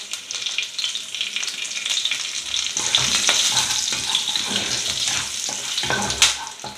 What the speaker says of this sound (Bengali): ফোড়ন দিলাম। একটু কালো জিরে আর কাঁচা লঙ্কা, 3টে কাঁচা লঙ্কা।